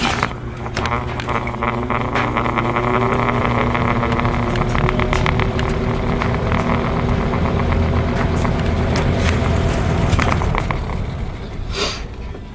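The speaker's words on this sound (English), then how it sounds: "We're gonna start it on low." A vintage 1980–81 Eastern Electric box fan with an all-plastic motor runs on its low setting, a steady close hum with a faint whine and light rattling clicks throughout.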